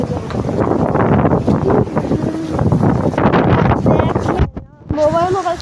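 Strong wind gusts in heavy rain roar and buffet the microphone almost without pause, dipping briefly near the end while voices talk and call out over it.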